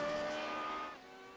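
A classic Lotus GP race car in iRacing at Watkins Glen International screams past, a loud engine whine that drops off sharply partway through as the car passes by.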